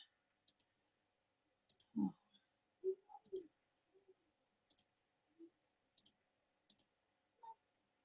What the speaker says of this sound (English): Let me click that